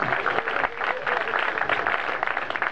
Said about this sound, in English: give these people some applause